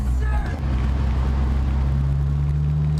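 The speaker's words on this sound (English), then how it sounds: "The loud exhaust." A Subaru WRX STI engine rumbles low and steady with a deep droning loud exhaust note, close, while a person talks over it.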